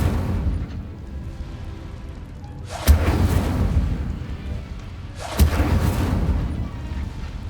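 Incendio fire spell cast in Hogwarts Legacy, two heavy whooshing fiery bursts a few seconds apart, each with a sharp thumping onset and a roaring tail, loud and close.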